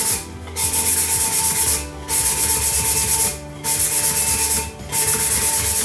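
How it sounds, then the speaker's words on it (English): A tumbler is scuffed by hand with 80 grit sandpaper in four long, close, loud rasping strokes separated by short pauses. "so next we're gonna be using just some regular sandpaper. I think this is probably like 80 grit or something like that"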